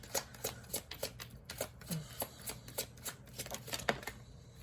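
Tarot cards being shuffled and drawn during a reading, a steady run of crisp riffling flicks repeating about every third of a second, close and clear, with little else around them.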